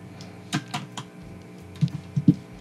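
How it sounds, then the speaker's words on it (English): Several sharp keyboard clicks sound close by, a quick cluster of keystrokes followed by a pause and a few more taps. "Yeah, it's just my keyboard,"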